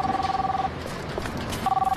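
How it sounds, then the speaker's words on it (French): A mobile phone rings in two bursts of rapid warbling electronic tone separated by a pause of about a second, close and fairly loud. "J'ai composé son numéro."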